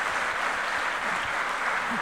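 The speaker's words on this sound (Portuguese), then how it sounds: "Dê uma salva de palmas ao Senhor." A church congregation applauds during worship, producing a continuous, dense wash of many hands clapping together. Faint voices can be heard underneath.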